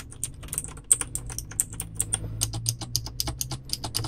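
A steady run of close, crisp keypresses on a Baroque angel typewriter-style keyboard: quick uneven clicks with a few sharper accents and no talking.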